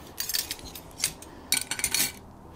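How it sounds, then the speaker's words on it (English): Metal spoon stirring a cold process soap mixture in a container, giving light scraping clinks in short bursts, close and fairly quiet with no talking. "And I'll give that a good stir"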